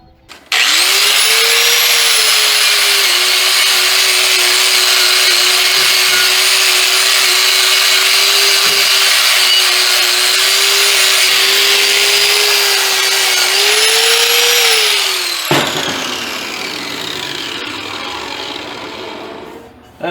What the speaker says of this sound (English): I got my wire wheel. Let me clean this up real quick.